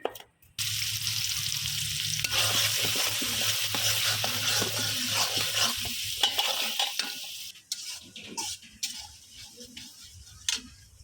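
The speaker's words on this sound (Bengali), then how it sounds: "পেঁয়াজটা বেরেস্তা করে নিচ্ছি" Chopped onion frying in oil with dry spices for beef bhuna khichuri, a steady close sizzle running most of the way, later broken by scattered scrapes and clicks of a spoon against the pot.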